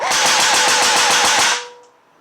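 Evanix Speed .22 airgun firing on full auto, a rapid, loud rattling burst of about a dozen evenly spaced shots that stops abruptly once the magazine empties.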